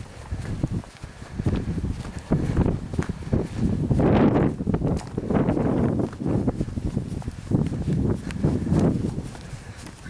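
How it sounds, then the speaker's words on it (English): Gusty wind buffets the microphone in rough, uneven surges on high, open ground during a walk near the Alwen Reservoir, with faint footsteps and rustling underneath. "I apologise about this wind, but it's quite open here"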